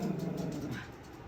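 A pet dog indoors makes low growling, whimpering noises, fairly quiet and close, with no barks clearly distinct and no talking over it.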